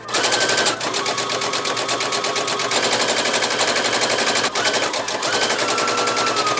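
A sewing machine stitching around a fabric crescent moon pillow, with a fast, steady, loud mechanical whirring chatter that runs almost continuously and breaks off briefly twice.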